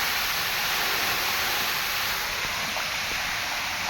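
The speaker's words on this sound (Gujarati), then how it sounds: "તો આવી રીતના પાણી આવે છે," Water gushes steadily into an old well being used for recharge, a loud, continuous rushing hiss close by with no pauses.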